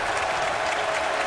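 Wake Forest Deacon fans rise to their feet at an ACC college basketball game against Syracuse, a dense roar of applause and cheering that fills the arena steadily and loudly throughout.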